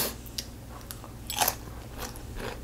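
A fresh cucumber bitten and chewed up close during a kimchi mukbang meal, a few sharp crunchy bites with one loud crisp snap, then quieter wet chewing.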